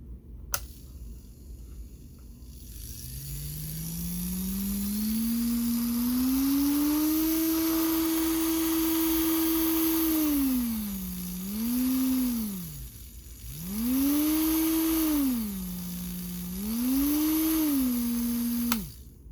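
An Urawa UP201 professional nail drill whirs close up in a steady high electric whine that climbs as it speeds up, dips and recovers twice under load, and then winds down.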